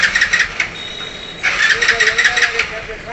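A Hero Splendor Deluxe BS6 motorcycle's electric self-starter cranks in loud, rapid pulsing bursts, pausing briefly before cranking again, close by.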